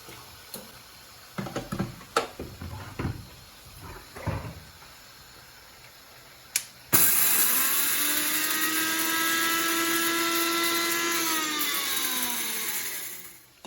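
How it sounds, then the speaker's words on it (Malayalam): A mixer grinder runs on roasted fenugreek seeds for Kerala-style fish pickle. Several clicks and knocks come first, then the motor starts abruptly with a loud, steady high whine that holds for several seconds before winding down. "മിക്സിയിലോട്ട് ഇടുകയാണ്."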